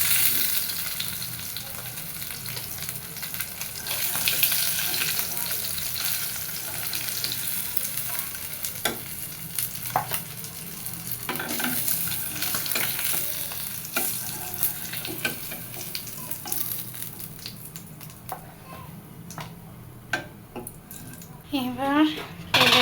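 Fish pieces frying in oil until reddish-brown, with a steady broad sizzle and occasional stirring and pan clinks, some faint voices in the background.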